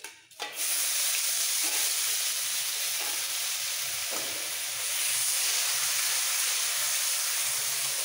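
Finely chopped medium onion hits hot oil with tempered spices and sizzles loudly and steadily, a dense close frying hiss with a few faint stirring scrapes, no voices.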